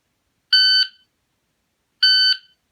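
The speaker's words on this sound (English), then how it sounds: "it will beep again to let you know that the time has expired" A Pocket Pro electronic shot timer gives two identical sharp, piercing electronic beeps, each lasting about a third of a second and spaced well apart, with silence around them.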